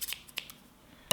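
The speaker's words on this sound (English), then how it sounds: "The first thing we have here are kitchen scissors." Kitchen scissors from a stainless steel knife set handled during an unboxing: a few brief, sharp metallic clicks and snips, quiet and close, with a slightly louder snap at the end.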